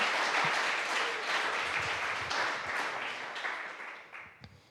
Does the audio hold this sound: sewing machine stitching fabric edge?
no